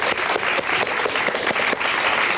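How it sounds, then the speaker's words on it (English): An audience at a televised high school quiz bowl gives a sustained round of applause, many hands clapping in a thick, even roar that stays loud from start to finish. "Round of applause for these people"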